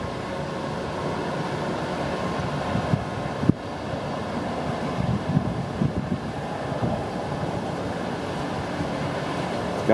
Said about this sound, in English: That's a big ass coal train.